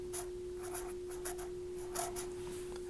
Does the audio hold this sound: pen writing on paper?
yes